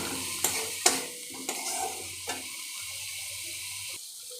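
Spice paste for a hilsa fish curry is sautéed in a pan, a few soft spoon strokes over a faint, low sizzle, quiet and close, with no voices.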